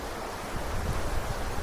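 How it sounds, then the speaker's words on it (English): A river rushes steadily at a hiking crossing in Ireland's Galtee Mountains, a broad continuous wash of flowing water heard close and alone, with some wind buffeting the microphone. "Unexpected river crossing."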